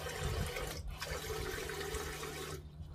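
Water sprays steadily from the nozzle of a HIBBENT bidet toilet seat after a button press, a faint, continuous hiss and splash close by with no talking.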